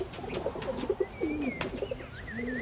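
Rock doves coo in a run of soft, throaty, rolling calls against a steady outdoor background, with a few higher bird whistles and chirps mixed in near the end.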